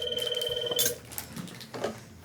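A telephone rings indoors, its bell tone sounding for just under a second before it stops. Faint rustling and a soft knock follow in a quiet room.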